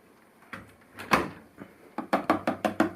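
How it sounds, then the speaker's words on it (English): A washing machine door is pushed closed with a series of sharp, close knocks and clicks, a few scattered bumps first, then five quick evenly spaced latching thuds near the end. "Then you shut the door."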